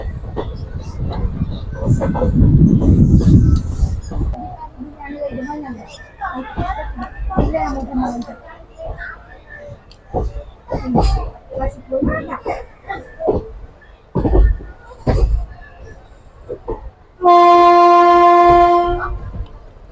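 A train rumbles close by under chatter and a crying baby near Lusada station, then a loud, sustained horn blast sounds near the end.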